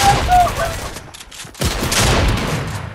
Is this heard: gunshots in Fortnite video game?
yes